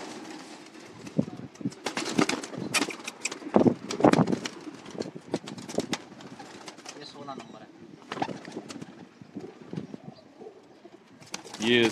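Pigeons cooing in a fancier's loft, soft repeated coos mixed with wing flutters and scattered movement, close, with people talking throughout.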